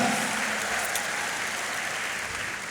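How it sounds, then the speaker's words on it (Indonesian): An audience at a Sekolah Vokasi UGM anniversary event with an orchestra breaks into lively, sustained applause, a dense wash of clapping that fades slightly toward the end. "Tepuk tangan yang paling meriah untuk Sekolah Vokasi UGM dan juga UGM yang luar biasa."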